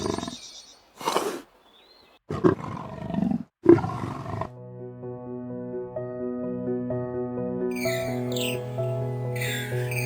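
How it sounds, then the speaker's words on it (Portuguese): A young male lion lets out a few loud, deep roars in close succession, then they give way to sustained musical tones. "Com um rugido retumbante, o jovem macho declarou seu poder"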